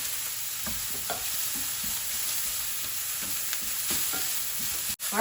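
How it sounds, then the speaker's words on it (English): Southern-style sausage browns in a hot pan with a steady, close sizzle, broken by the scrape and knock of a spatula as it is stirred and flipped. No voices. "Our sausage is browning now."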